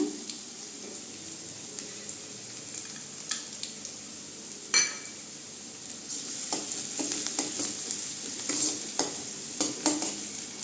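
Garlic fries in a pan and gets stirred repeatedly. A close, continuous sizzle is punctuated by scraping and clinking spatula strokes, and the stirring grows busier toward the end.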